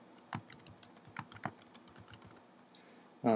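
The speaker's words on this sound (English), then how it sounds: "And then start typing data." Quick, irregular clicks of typing on a computer keyboard as data is entered, close and fairly quiet, ending with a louder thump.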